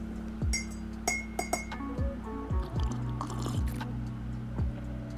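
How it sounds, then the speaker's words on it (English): A spoon clinks against a glass or cup while stirring sugar into tea, with a series of bright, irregular taps and ringing tones near at hand and no talking. "I add 2 teaspoons of sugar and stir."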